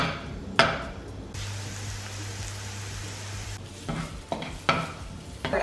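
Onion frying in olive oil, a steady broadband sizzle with a low hum band across the middle, while brief clatters of stirring stand out near the start and end.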